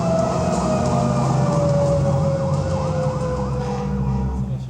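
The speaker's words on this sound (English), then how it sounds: "If you hear a fire engine, get out of the way." Fire engine siren at the Backdraft ride set at Universal Studios Hollywood, a loud wailing tone sweeping up and down over a dense rumbling background, continuous and close.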